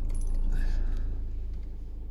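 A Toyota D4D diesel engine, just cleared of a DPF fault code, runs with a steady low, even rumble close by, holding a constant level throughout without a distinct cranking moment.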